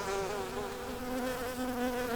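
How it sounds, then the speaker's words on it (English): Bees buzz around purple snail vine flowers growing beside a coral vine in a Phoenix, Arizona yard, a close, steady droning hum with layered wingbeat tones, continuous and moderately loud. "Wow, I see a lot of bees."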